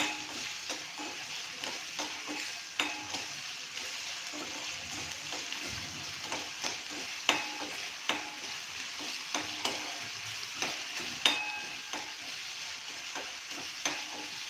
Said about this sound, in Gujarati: ફાસ્ટ ગેસ ઉપર આપણે બટેટાને ચોળવી લેશું